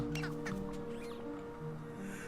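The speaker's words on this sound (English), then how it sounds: "Oh, chickens." A chicken in the cozy video game Wanderstop gives a few soft, quiet clucks over a steady droning game soundtrack.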